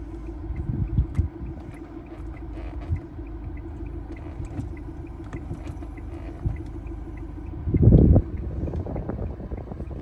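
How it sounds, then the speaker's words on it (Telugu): A 2017/18 Tata Nexon XZ Plus with a manual gearbox and about 83,000 km, started by push button, settles into a low steady engine rumble close by, with a heavier surge of revving near the end. "ఇది పుష్ బటన్తో స్టార్ట్ చేయాలండి"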